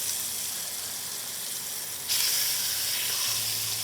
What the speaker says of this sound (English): Slowly cooked in this oil to caramelize the vegetable.